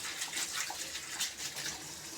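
Running water rinses washed vegetable leaves, a soft, steady splashing and trickle heard close up and fairly quiet, with no talking.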